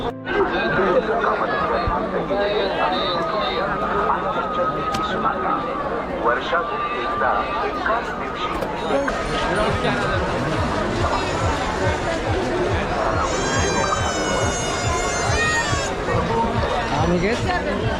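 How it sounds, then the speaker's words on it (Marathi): Huge crowd of devotees at the Anganewadi jatra temple fair for Shri Bharadi Devi, a dense continuous hubbub of many voices, chatter and laughter all around, with someone talking close by. "तर मित्रांनो गर्दी बघितली तुम्ही केवढी आहे माझा आवाज येतोय की नाही माहिती नाही पण जबरदस्त गर्दी आहे"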